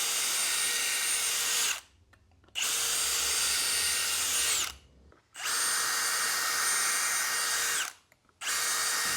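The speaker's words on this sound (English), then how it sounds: "So we'll just clamp it on our wood and start drilling." A power drill bores pocket holes through 1.5 inch lumber clamped in a jig, three long steady whining runs separated by brief pauses, loud and close with no talking.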